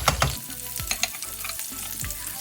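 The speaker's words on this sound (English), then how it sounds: "Fry for a few seconds, then add the potatoes." Potatoes hit hot oil with spices for a vegan potato fry curry, giving a bright, crackling sizzle with sharp pops and stirring scrapes, close and busy.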